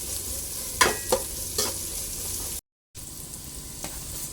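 Crushed ginger and garlic sizzle steadily in a hot pan, a dense continuous frying hiss with a few scraping stirs of a spoon and a brief silent gap.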